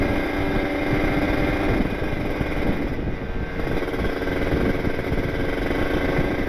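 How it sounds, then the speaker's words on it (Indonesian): A Kawasaki Ninja RR motorcycle's exhaust in slow traffic, a steady close two-stroke rumble with a raspy buzzing tone that holds throughout with little change. "sambil dengerin sensasi knalpotnya enak banget"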